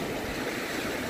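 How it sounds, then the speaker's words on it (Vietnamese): Sea waves wash onto Deauville beach on a calm day, a dense continuous hiss of surf close by with no one speaking. "Sóng, từng cơn sóng."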